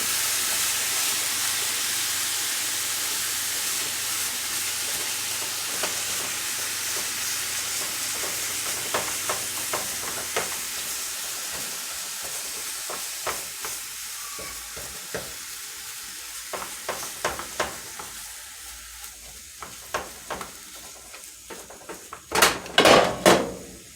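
Egg roll cooking in a pan on medium-high heat gives a steady frying sizzle and hiss throughout, with scattered sharp crackles and spatter pops growing louder toward the end.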